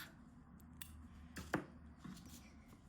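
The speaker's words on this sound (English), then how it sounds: "I can cut off this short yarn tail." Scissors snip off a short tail of crochet yarn while making a daffodil bookmark, a single quiet, close cut standing alone in an otherwise still room.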